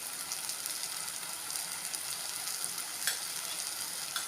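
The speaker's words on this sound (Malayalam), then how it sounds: "ഒരു 3-4 മിനിറ്റായി എണ്ണയിൽ മാങ്ങ വഴറ്റി എടുക്കുകയാണ്" Mango pieces sautéing in oil for a sweet mango pickle, giving a steady, soft crackling sizzle with faint scraping clicks of stirring, close and even throughout with no voices.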